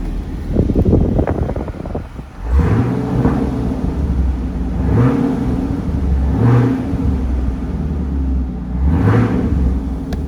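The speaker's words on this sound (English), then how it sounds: "Love the Corsa exhaust." A 2017 Chevrolet Camaro 2SS with a Corsa exhaust idles with a deep rumble, rising in several quick throttle blips that swell and fall back to idle, close by and loud.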